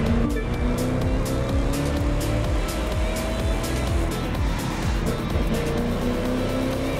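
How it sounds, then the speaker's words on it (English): Hypercars race across rough asphalt through deep woods in The Crew 2, producing a continuous loud engine roar with a rising whine and dense tyre noise, steady and close. "Those engines are gonna make for a loud wake-up call if anyone's sleeping in this resort area today."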